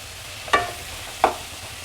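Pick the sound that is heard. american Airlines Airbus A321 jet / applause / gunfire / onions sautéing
onions sautéing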